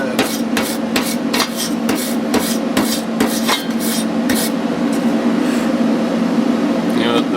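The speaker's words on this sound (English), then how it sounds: "Cleaning the paint off the back side." Paint is scraped off the back of a car bucket seat in rapid rough strokes over a steady background hum. The rasping fades after a few seconds.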